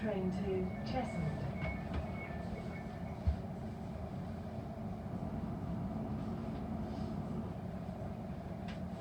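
A London Overground train runs toward Cheshunt, a steady low rumble of wheels and carriage noise with faint rattles and one brief clunk, heard from inside the carriage.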